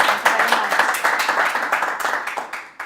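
Audience applause at the close of a talk on regulating high-cost treatments in Latin America: steady, dense clapping from a modest group, close and continuous for a few seconds before cutting off.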